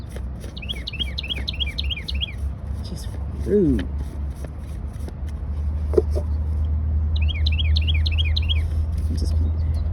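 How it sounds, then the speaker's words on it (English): A bird chirps in two quick, repeated trilling bursts in the background, first near the start and again near the end, while a person talks over a low steady rumble of passing traffic. "Do y'all hear this bird in the background trying to rush me to hurry up?"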